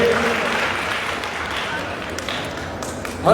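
An audience in a church applauds to send off a departing guest, a steady wash of clapping that holds for several seconds and slowly thins out.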